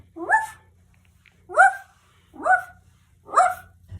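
A person imitates a dog barking with four separate woof-like yelps, spaced about a second apart, close and clear over a faint low hum.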